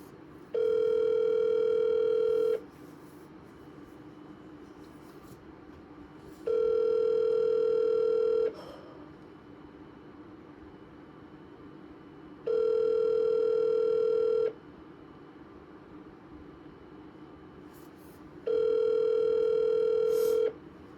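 A telephone call ringing out before reaching voicemail: four evenly spaced two-second electronic ring tones, each separated by about four seconds of quiet line hiss, loud and close.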